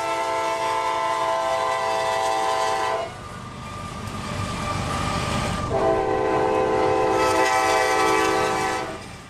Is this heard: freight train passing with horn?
yes